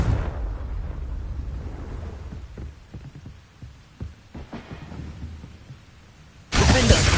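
A Confringo blasting spell goes off in Hogwarts Legacy, a sudden loud burst of broad roaring noise at the end after quieter low rumbles and thuds.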